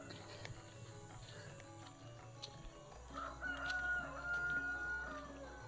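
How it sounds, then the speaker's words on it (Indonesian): A rooster crows faintly at a distance in a quiet, remote Javanese village, with chickens clucking softly around it against a low, calm rural background. "cuma suara hewan-hewan, suara sapi, ayam, kambing."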